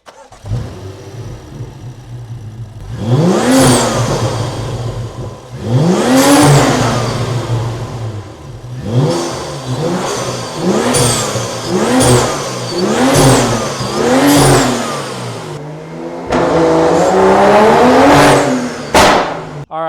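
A BMW 535i F10 engine with a cold air intake revs hard again and again, each rise in pitch climbing then dropping, loud and close, with a throaty intake roar and no talking.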